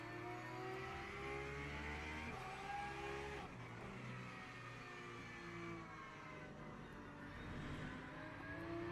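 Racing game engine noise from a P1 hypercar overtaking a Mustang, with a steady, loud layered engine drone and shifting harmonic tones running continuously through the clip, no voices.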